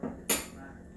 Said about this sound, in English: We are going to stir that up really good.